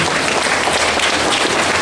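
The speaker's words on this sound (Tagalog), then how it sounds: "Can we stand and give them a round of applause?" Loud, dense round of applause from a standing audience at an elementary school graduation ceremony, honoring the graduates' parents; continuous close clapping filling the whole short stretch.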